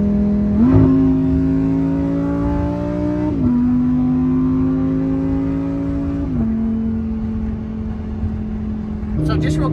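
A Lamborghini Huracan accelerates onto a freeway, its engine note rising steadily through three upshifts with brief dips between gears, loud and close from inside the car.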